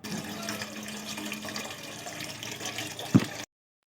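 Tap water runs steadily into a cooking pot at close range, a continuous rushing splash ending in a short louder clunk just before it cuts off.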